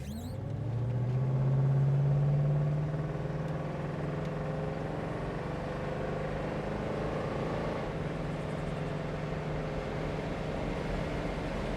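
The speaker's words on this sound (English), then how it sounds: "We'll run it up through the gears here," A 1969 Ford Mustang Mach 1 pulls up through the gears, its engine note rising in pitch, then easing after a shift and settling into a steady, moderately loud cruising drone with road noise.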